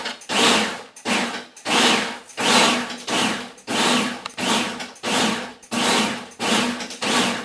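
A food processor pulses fig roll mixture into crumbs in about eleven short, even whirring bursts with brief gaps between them, close and loud.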